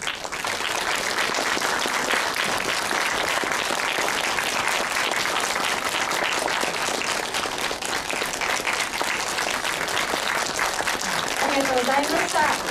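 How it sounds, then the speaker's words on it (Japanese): A large audience at a film premiere stage greeting in Tokyo applauds loudly and continuously, a dense steady clapping that fills the whole stretch without pause. "盛大な拍手でお見送りください"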